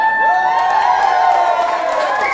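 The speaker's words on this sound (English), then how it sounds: "I did put at the end of this letter, in small letters, loud cheering and clapping." Wedding guests at a barn reception cheer and whoop loudly, with raised voices and some clapping in one sustained, excited burst close by.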